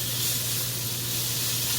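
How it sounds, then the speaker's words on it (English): A steady, dense hiss of asada meat sizzling in a hot pan, continuous and fairly close, with no voices. "I'm gonna start cooking the meat. Hear that sizzle, sizzle, sizzle"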